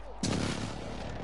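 Gunfire in a Call of Duty: Modern Warfare match on PS4, a sudden loud burst of rapid shots that rolls on as sustained, booming fire, with faint voices beneath.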